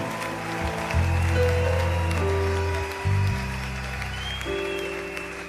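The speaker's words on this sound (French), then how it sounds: "Nous acclamons le Seigneur en signe de foi." A church congregation claps at a worship service, the clapping running under loud sustained keyboard or organ chords that shift pitch, with no speech.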